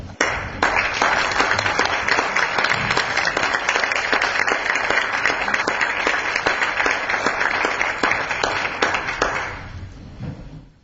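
A room full of people at a council meeting applauding steadily for about ten seconds, dense and loud, then tapering off quickly at the end.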